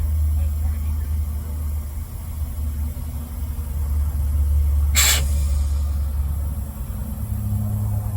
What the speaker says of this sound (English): Set the parking brake.